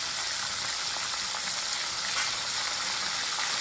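Onions and sausages frying together in a pan, a loud, steady close sizzle with crackling pops throughout and no talk.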